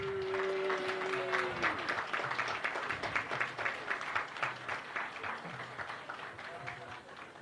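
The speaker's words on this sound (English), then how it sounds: "Give them a round of applause again." An audience at an agricultural fair opening day gives a round of applause, with rapid steady clapping building after a brief voice and continuing to the end, with other voices mixed in.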